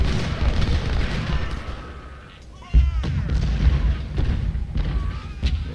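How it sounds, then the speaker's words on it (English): Artillery fire booms across a Civil War battlefield in Ultimate General: Civil War at Chickamauga, with a sharp loud blast near the middle over a steady low rumble of distant cannon. "some more artillery over here."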